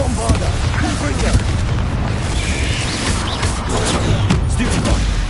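Spell explosions and booms from the Hogwarts Legacy video game burst in a dense, continuous barrage of blasts and impacts, loud and chaotic, with a voice shouting in the mix.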